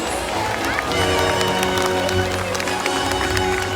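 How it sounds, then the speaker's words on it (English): An audience at the SeaWorld San Diego orca show claps and cheers in a large outdoor stadium. The dense, steady applause runs throughout with crowd noise and music mixed in, and no clear talk is heard. "Let's give them a big round of applause."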